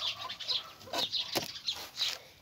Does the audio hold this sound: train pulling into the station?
no